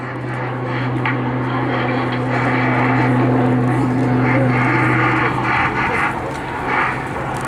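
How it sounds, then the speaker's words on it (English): An RAF Tucano T1 turboprop trainer performs a knife-edge airshow display manoeuvre, giving a loud, steady engine and propeller drone with a sustained low hum that holds throughout, with no talking. "placing the aircraft onto a knife edge, and feeding in the top rudder until the aircraft appears to pause"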